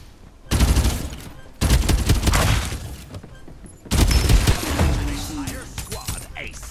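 Bursts of automatic gunfire from the Farlight 84 battle game come in three loud rapid volleys separated by short pauses, with sharp impacts and shattering effects.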